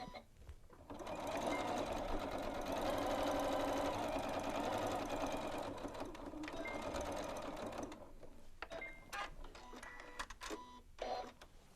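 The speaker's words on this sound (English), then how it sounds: "we just need to do a quick top stitch at the machine on the edges of those folds to close it up" A sewing machine top stitches the folded edges of a holiday stocking, running in one long loud steady hum for several seconds. It then breaks into short bursts and clicks as the stitching stops and starts.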